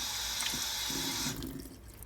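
Water running from a tap while homemade deer fat soap is rinsed, a steady close rush of water that thins out and fades near the end.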